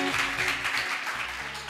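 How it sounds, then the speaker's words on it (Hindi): A small audience claps hesitantly after a girl's performance, a soft, uneven patter of hands under faint background voices. "डर डर के बजा रहे हैं तालियां"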